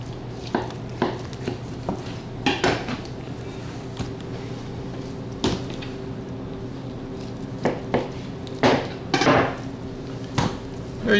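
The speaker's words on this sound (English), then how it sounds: "I think I'm gonna cut this roast into a few pieces" Knife cutting a deboned pork leg roast into pieces on a cutting board, heard as scattered sharp knocks and clatters of blade on board at an irregular pace, close and moderately loud over a steady background hum.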